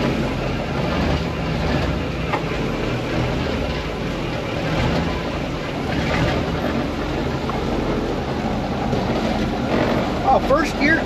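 A 1972 Brockway 358 truck with new 444 rear gears drives in second gear, its engine a steady low rumble that bogs under load, with wind buffeting the microphone throughout.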